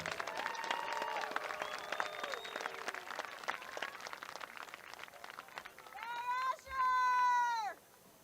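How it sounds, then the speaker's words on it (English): A stadium crowd at a high school football senior night applauds a football senior: distant, continuous clapping with scattered voices, then a tonal call, likely a horn or whistle, rises loudly near the end. "Let's give a round of applause for our football senior"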